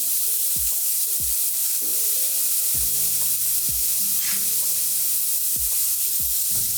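Half a tablespoon of garlic sizzling in a pan for creamy bow pasta, a loud, constant frying hiss with periodic knocks and scrapes of a utensil as it is stirred.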